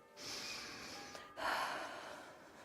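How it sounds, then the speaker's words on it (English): Deep breathing in Kingdom Come Deliverance II, a long close inhale followed by a heavier audible exhale, breathy and noisy, with no talk over it. "Your breathing is improving."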